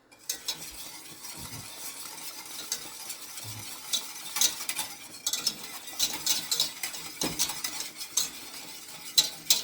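A whisk stirs milk into roux in a pan for mac and cheese, with quick scraping strokes and light metallic clinks repeating close up, plus faint bubbling underneath and no talking.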